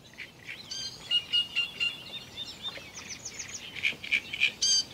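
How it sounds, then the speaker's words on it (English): A great reed warbler sings a loud, harsh, chattering song of repeated grating and whistled phrases from reeds at a moderate distance, with no voices. "In the distance I hear loud and clear the great reed warbler."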